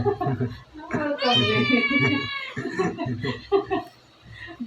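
A cat meows once in a drawn-out, high call amid Filipino conversation and light laughter nearby, the voices continuing around and after it.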